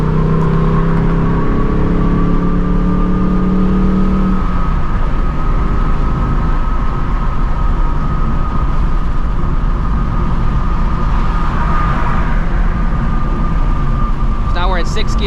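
A Ford Mustang engine drones steadily inside the cabin, its pitch shifting as the revs are matched for a downshift, with a faint murmur of road and interior noise around it.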